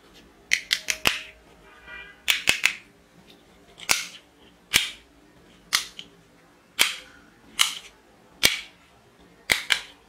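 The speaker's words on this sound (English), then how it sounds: "Plastic Indian local toy pistol." A plastic Indian-made toy pistol snaps off about a dozen sharp cap-gun cracks, some in quick doubles and triples, each crisp and close with brief gaps between.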